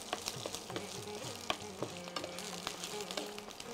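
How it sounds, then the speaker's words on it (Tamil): Garlic and finely chopped green chillies sautéing in a pan, with an even sizzle and frequent light clinks and scrapes of a stirring spoon, no talking. "இதனுடைய பச்சை வாசனை போகிற வரைக்கும் வதக்கிக்கலாம்."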